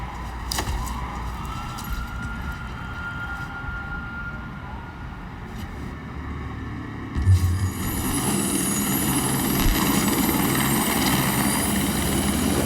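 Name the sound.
helicopter flying, from a video game trailer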